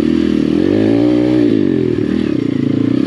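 A Chinese dirt bike rides a hard enduro trail, its engine droning loud and close. The engine pitch rises and dips as the throttle changes, with scraping and clattering from the rough ground underneath.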